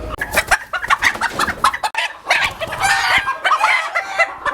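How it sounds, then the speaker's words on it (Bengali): Small bantam chickens on a fancy-breed poultry farm cluck busily and repeatedly up close, with crowing calls rising over the steady flock chatter. "অসম্ভব সুন্দর একটা মুরগি, সাইজে ছোট, এবং এরা ব্যান্টাম প্রজাতির"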